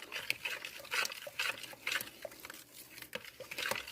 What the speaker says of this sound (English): So give this a good stir